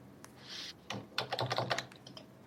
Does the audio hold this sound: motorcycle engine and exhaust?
no